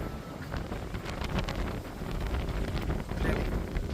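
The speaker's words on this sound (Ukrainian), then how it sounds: "Вітер, що зараз дує." Strong wind over Prague buffets the microphone continuously, a rough low rumble with gusty surges, loud and close, with no talking.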